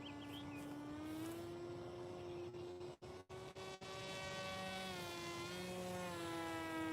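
The electric motor of a large FPV model plane drones steadily in flight, a sustained buzzing tone whose pitch slowly rises and falls, with a few brief dropouts midway.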